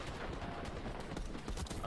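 Rapid gunshots in a Call of Duty Search and Destroy esports match, a dense crackle of fire blended into a loud, noisy mix of crowd and game ambience.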